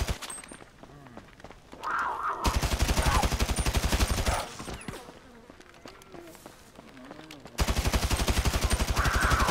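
Rapid bursts of automatic gunfire in Grand Theft Auto V come in two loud stretches separated by quieter moments, with a voice speaking faintly between them.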